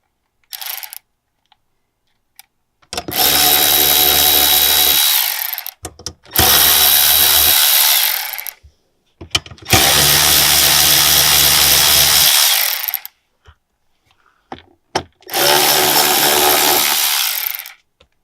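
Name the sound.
electric impact wrench removing 8mm bolts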